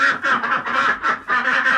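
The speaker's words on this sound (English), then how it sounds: "a residence for the ducks, which are being very noisy." Several ducks quack loudly and continuously in a woodshed that doubles as their home, a noisy overlapping chorus with only brief dips.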